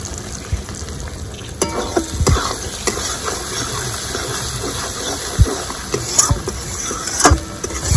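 Spice masala with turmeric and a little sugar frying in a pan for an egg curry, a steady close sizzle with scraping stir strokes and occasional clacks of the spoon against the pan.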